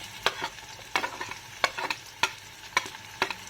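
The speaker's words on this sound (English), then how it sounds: "Now I will let the onions to fry." Onions frying in a pan with zeera and ginger garlic paste, a soft sizzle under repeated sharp stirring scrapes and clinks spaced roughly every half second.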